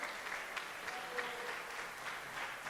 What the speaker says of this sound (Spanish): Vamos a dar un aplauso a ustedes,